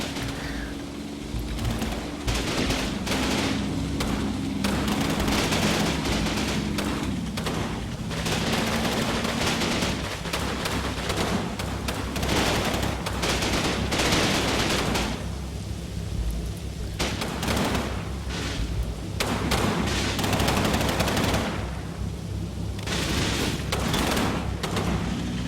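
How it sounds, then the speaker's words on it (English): Machine gun fire in Combat Mission Battle for Normandy, sustained rapid bursts of gunfire and rumbling booms over a steady dense battle din, continuing loud throughout. "Machine gun all the way back there covering the road."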